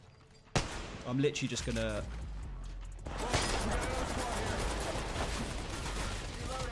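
Gunfire in the Apex Legends Mobile battle royale game: a sharp burst of shots, then dense, sustained firing and action noise fill the rest of the clip, with a player talking briefly over the start.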